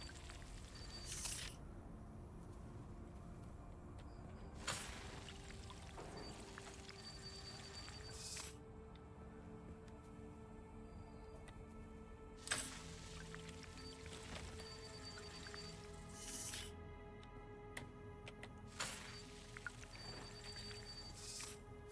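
Water being harvested in Dune: Awakening, a soft steady liquid hiss with several brief squishing, dripping bursts spaced through it, faint and continuous without talk.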